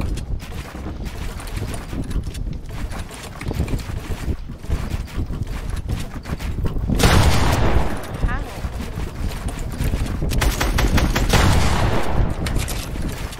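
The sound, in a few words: drum gun gunfire in a video game (Fortnite)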